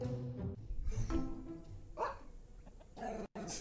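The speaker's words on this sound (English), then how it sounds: "He's such a cute puppy dog." A puppy barks and yips in short, close bursts with whimpering sounds mixed in, the bursts uneven and separated by brief pauses.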